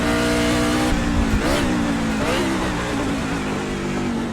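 A NASCAR race car in the iRacing simulator brakes hard for a street-circuit corner in Chicago, the loud engine note dropping with a few quick downshift blips before settling into a steady lower drone, with no talking.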